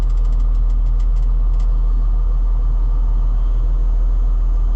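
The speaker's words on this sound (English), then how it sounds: "Now you can also spin the machine around" A Cat 320 E L excavator engine runs loud and close while the machine swings around, a constant deep rumbling drone with a burst of faint high ticking early on.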